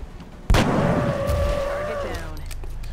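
A single sharp, loud sniper shot in XCOM: Enemy Within, a sudden crack followed by a ringing, whining tail that decays over a couple of seconds.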